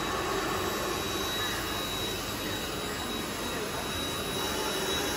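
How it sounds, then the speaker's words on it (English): A vacuum tube lifter raising a 25 kg box gives off a loud, constant suction roar with a high whine on top, steady and unbroken from start to finish. "we're just going to show the principle of a vacuum tube lifting system"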